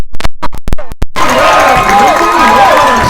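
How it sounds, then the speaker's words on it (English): A capacity crowd of basketball fans roars loudly in a college gymnasium, a sustained wash of cheering and shouting after a few sharp bangs and squeaks from the court. "There you hear the Eagles fans cheering on their team on the court."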